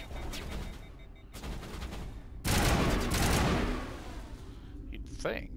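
Several long, loud bursts of rapid automatic gunfire in the sci-fi shooter Mass Effect, separated by short pauses, with a brief whoosh near the end.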